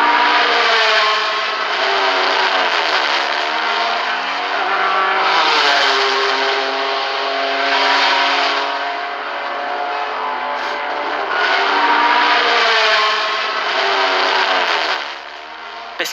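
A Matra race car engine at the 1973 Le Mans 24 Hours screams loudly and steadily, its high-pitched wail swelling and fading as cars pass and shift, with no talking.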